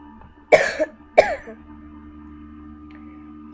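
Two close, harsh coughs from a person who is ill, about half a second apart, followed by quiet room tone with faint game sounds from GTA 5 in the background.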